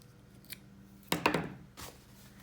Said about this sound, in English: then you're going to snip that